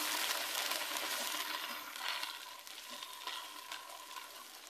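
Ginger garlic paste hitting hot oil with golden brown onions, a loud bright sizzle that settles into a softer steady frying hiss, with no voices.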